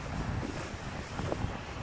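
Strong storm wind with rain roars steadily across the microphone, a dense rushing noise with gusty buffeting and no voices.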